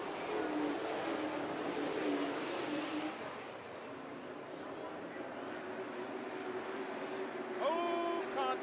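Spears Pro Late Model race cars on a short-track oval restart lap, a steady loud engine roar throughout, with a race announcer talking over it.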